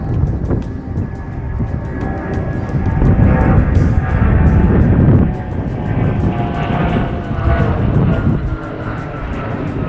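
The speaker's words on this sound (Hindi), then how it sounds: "आपके ऊपर से हवाई जहाज जा रहा है," An airplane passes overhead near the Crown Estate, a loud, broad engine roar that swells and eases over several seconds, mixed with wind buffeting on the microphone.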